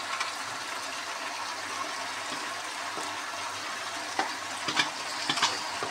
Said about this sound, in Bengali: এবারে দেবো এই যে পুঁই শাক, এই যে বেগুনটা রেখেছিলাম, পুঁই শাক বেগুন সব দিয়ে দিচ্ছি